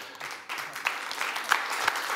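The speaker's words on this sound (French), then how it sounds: "On peut déjà t'applaudir sur cette table ronde." Audience applause for a round-table speaker at the Erepday 2020 SEO conference, a dense steady clapping from a room of people, moderately loud and continuous for about two seconds with no talk over it.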